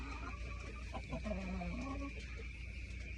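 Black Australorp breeder chickens clucking softly in a farm coop, a few short low calls over steady background hum, no talking.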